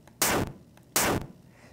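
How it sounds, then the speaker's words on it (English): Retro Space Invaders-style video game explosion effect, harsh and loud: two identical noisy bursts of about a quarter second each, separated by a short gap, with quiet in between and nothing else around them. "That sound is so much like the original Space Invaders, though, the first explosion."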